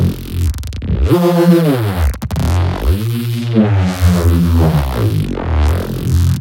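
A thick, detuned Reese bass synth drones and slides between notes, its tone phasing and churning, loud and on its own.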